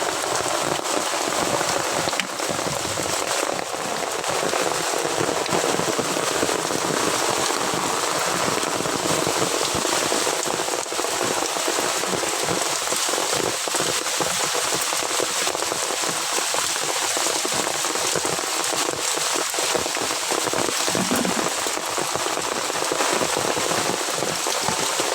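Steady heavy rain pours through a mangrove forest, a dense, continuous hiss of drops striking leaves and water that stays loud and unbroken throughout.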